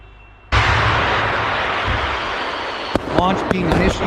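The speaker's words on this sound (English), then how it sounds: "Launch being initiated, missile in the air." Russian missile launch: a sudden loud roaring blast that settles into a sustained broadband rumble of the rocket motor, with a few sharp cracks and pops later on, heard from a distance.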